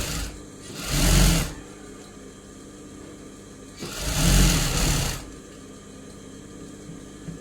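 A sewing machine stitching a blouse runs in two separate bursts of roughly a second each, loud and close, with a quiet pause between them.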